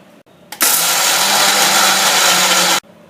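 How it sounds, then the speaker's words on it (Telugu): A mixer grinder whirs loudly through a load of peanuts, almonds, green chillies, ginger, coconut and salt, a steady roaring spin of about two seconds that starts abruptly and cuts off sharply, close and alone. "ఇవన్నీ ఈ మిక్సీలో వేసేసుకుని ఒకసారి మిక్సీ తిప్పుకుందాం"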